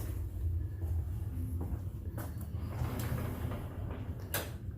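A sliding bathroom door in a room at Disney's Animal Kingdom Lodge makes faint, low rumbling glides with a few light clicks and taps, set against a quiet room hum.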